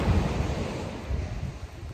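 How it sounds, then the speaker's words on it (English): Sea waves washing onto a rocky beach in the UK, a steady rushing surf roar mixed with heavy wind buffeting the microphone, with no talking. "Here we are in the beach. A rocky beach."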